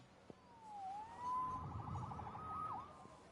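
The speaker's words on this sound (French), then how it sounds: "Sauvé par les sirènes." Emergency siren wailing at a distance in a city, a rising and falling tone that sweeps down, holds, then dips again, faint over a low background rumble.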